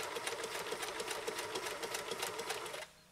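A 1974 Kenmore 1050 sewing machine stitches through heavy acrylic awning fabric, a loud, fast, steady mechanical whir with rapid repeated needle strokes, running alone before stopping abruptly near the end.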